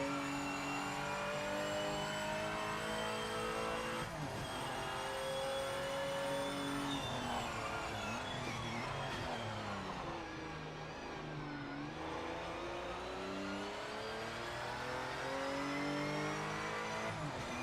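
Race car engines in the racing video game Project Motor Racing drone and rev continuously, loud and steady with rising and falling pitch through shifts, sometimes several cars at once, with no talk.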